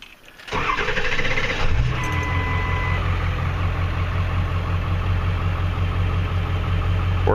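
A 7.3 Powerstroke diesel engine cranks briefly, then catches and settles into a steady, loud, close idle that holds for several seconds with no talking.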